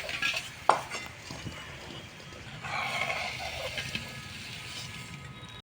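Cooked banana flower ghonto with shrimp is scooped from the pan into a serving bowl, with a sharp spoon clink near the start and then soft scraping and clattering of utensils against metal.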